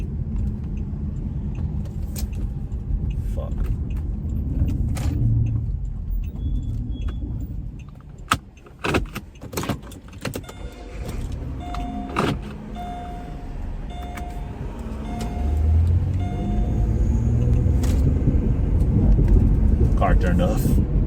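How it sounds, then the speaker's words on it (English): A car engine idles with a low steady rumble, then cuts out midway, leaving a quieter stretch with clicks and jangling keys before another vehicle-like rumble builds; someone talks over it. "Car turned off."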